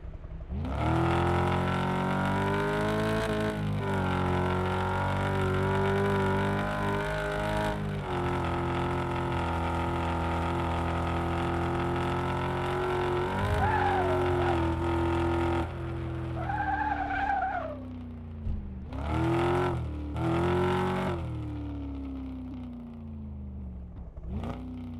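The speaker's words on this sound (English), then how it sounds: "the exhaust sound seems to be coming from the engine bay" Car engine and exhaust in a video game demo, loud revving and accelerating with tire squeals and skids, sustained and close, then dropping into shorter bursts of revving near the end.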